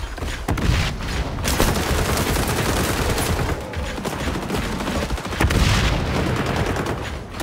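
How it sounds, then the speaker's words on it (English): A sticky grenade detonates in the XDefiant shooter, its sharp booms rising out of nearly constant rapid gunfire that fills the whole stretch at a loud, dense level. "Sticky grenade out."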